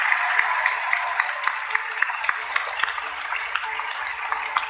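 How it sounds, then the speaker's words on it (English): A TV talent show audience applauds, a dense sustained patter of clapping from a crowd that continues without a break. "How about a big round of applause for both of them?"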